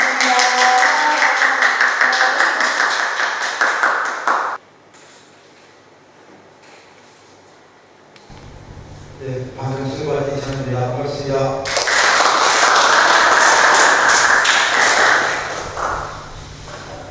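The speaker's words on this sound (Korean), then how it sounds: "이창구 박사님, 큰 박수 부탁드립니다." An audience at an academic conference in Korea bursts into loud, dense applause that fades. After a quiet stretch and some talking, a second round of clapping swells and fills the room.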